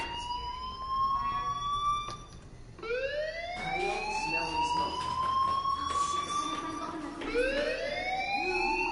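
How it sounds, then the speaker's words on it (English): A fire alarm wails repeatedly in the video game Life Is Strange, sweeping upward in loud rising tones that repeat in a steady cycle, with faint talk underneath. "do you hear that fire alarm? That means you should be outside."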